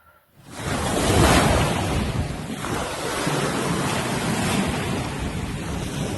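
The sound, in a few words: sea waves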